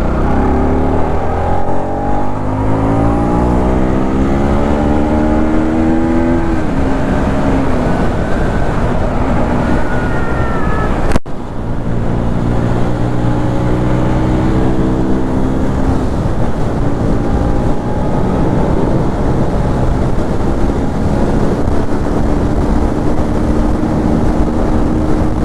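A Bajaj Pulsar NS200 motorcycle rides along a road, its engine a steady, loud drone whose pitch climbs and falls with each gear change, continuing with no talk.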